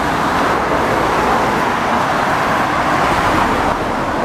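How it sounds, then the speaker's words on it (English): Cars and heavier vehicles stream past on a busy road near a fenced sheep field. The roar is continuous, broadband and fairly close, with no voices. "Busy road this is."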